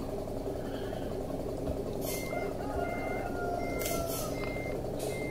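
A truck reversing on a farm in a 2013 farming game sends out a series of evenly spaced electronic beeps, steady and fairly faint over a constant engine drone and hum.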